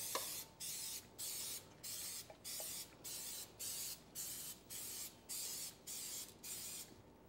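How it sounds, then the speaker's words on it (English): Cooking pan spray misted onto a muffin pan for buttermilk blueberry muffins, in about a dozen short, even hissing bursts at a steady rhythm, close by and alone. "So we'll take our pan spray and just kind of lightly spray them."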